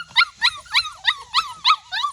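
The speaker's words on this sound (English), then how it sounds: "They have not barked this much forever." Schnoodle puppies bark outdoors in a quick run of about seven sharp, high yips at a steady rhythm, close and loud with no talking.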